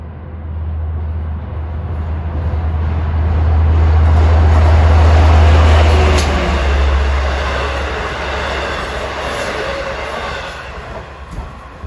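A Long Island Rail Road train, number 76 from Jamaica to Patchogue, passes at Elmont with a loud, steady rumble that swells to a peak mid-pass, carrying a thin high whine, then slowly eases.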